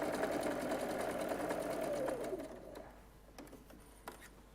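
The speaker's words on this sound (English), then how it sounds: "So I'm just going to stitch this." A sewing machine stitching small fabric triangles whirs in a steady, fast rhythm for about two seconds, then slows and stops, leaving a few faint clicks and handling sounds.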